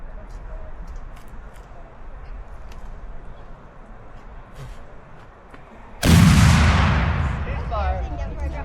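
A loud cannon or musket volley booms up close at a Battle of Camden reenactment in South Carolina, breaking a quiet outdoor stretch and rolling off into a long echoing rumble.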